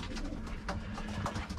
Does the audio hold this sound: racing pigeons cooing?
yes